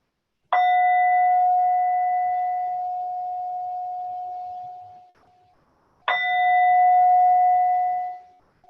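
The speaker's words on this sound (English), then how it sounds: "So with the sound of the bell, we come to the end of the practice." A meditation bell rings twice, each stroke a clear, sustained metallic tone that slowly decays over several seconds, close and alone in a quiet room at the end of a mindfulness session.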